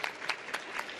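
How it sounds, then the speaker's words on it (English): Audience applause for a panel at a Cisco Live conference session in Melbourne, with sparse separate claps standing out over a thin background of clapping in a brief moment. "Let's give a big round of applause to our fabulous panel."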